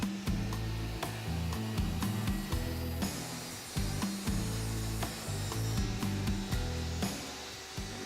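A saw cuts through wood for a DIY shower-room bench, guided by a rip fence set as a stop, making repeated rhythmic rasping strokes about a second apart, close and alone without speech.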